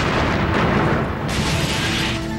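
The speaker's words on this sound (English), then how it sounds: "the air is shattered by a massive explosion" Massive bomb blast outside an embassy in a busy city, a loud sustained roaring boom with dense low rumble and broadband debris noise throughout.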